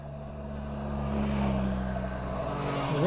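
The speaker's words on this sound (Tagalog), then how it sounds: "Ayan, mga big bikes," Big bike motorcycles pass on a road during a long ride, their engines droning steadily and rising in pitch as they draw near, heard over the rider's own small motorcycle engine.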